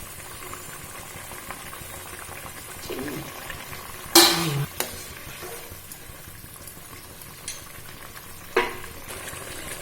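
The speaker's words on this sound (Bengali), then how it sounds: "ঝোলটা একটুখানি ফুটতে দেওয়া হচ্ছে" Gravy with paneer and potatoes simmering in a pan: a soft continuous bubbling hiss, broken by a few sharp clatters and stirring knocks, with no voices.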